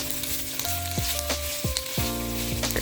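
Pork browning in its own rendered fat for Bicol Express gives a steady, close sizzle and crackle, with a few sharp tonal scrapes against the pan.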